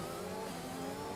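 Ferrari racing car in a racing video game, its engine droning at a steady, sustained high-revving pitch, quiet and continuous with no pauses.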